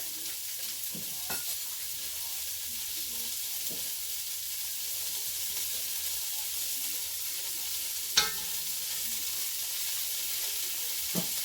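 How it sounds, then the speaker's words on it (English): A tablespoon of butter melts and sizzles with softened onions in a pot for a cube steak dinner, a low steady frying hiss with a few faint clicks and one sharp knock near the end. "these onions are looking good. I am going to drop in about a tablespoon of butter."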